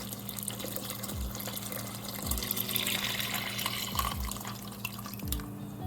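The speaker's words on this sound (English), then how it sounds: "Add some cold water to sink the peas." Cold water runs and trickles into a cooking pot of peas with a few distinct splashing drops, a gentle steady flow close by and no talking.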